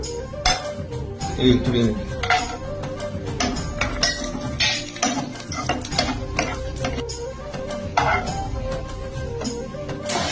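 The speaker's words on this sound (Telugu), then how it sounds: "క్యారెట్ వేయించి నెయ్యిలో బాగా వేయించుకోవాలి" Carrots fry in ghee while a spoon stirs them around the pan, giving a continuous crackling sizzle with frequent scraping and clinking strokes, and a person talks over it.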